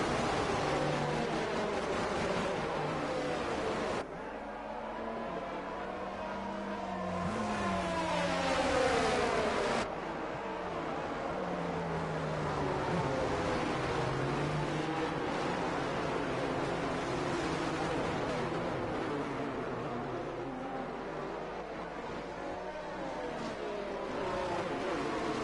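Race cars in an F1 video game at the Japan round run behind the safety car, their engines droning steadily with rising and falling revs, one car's pitch sweeping past in the middle.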